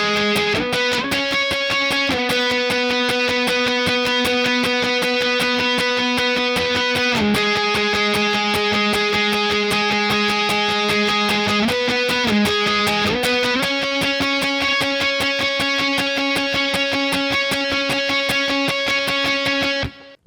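Electric guitar plays the octave lead part of Foo Fighters' Best Of You, a steady run of sustained, slightly distorted doubled notes shifting pitch a few times, loud and continuous with no talking.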